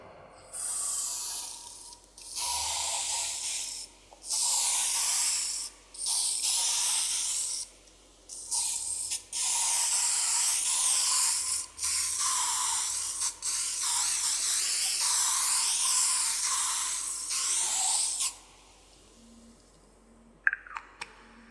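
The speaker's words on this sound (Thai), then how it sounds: "เป็น สเปรย์ 3M นะครับเป็นตัวเช็ดคราบกาวนะครับฉีดเข้าไปก่อนนะครับ" A 3M adhesive remover aerosol sprays in a series of close, loud hissing bursts, several short blasts then one long continuous spray, used while removing glue from a waterproof licence plate frame.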